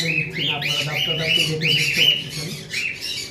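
Large pet birds in a cage give a run of loud, harsh squawks in quick succession, close by, with brief gaps and a softer final call.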